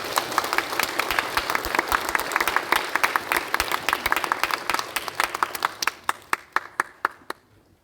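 Congregation at a combined Easter worship service in Sejong clapping to welcome the pastor: brisk, crowded applause that gradually thins into a few scattered, sharp claps before stopping.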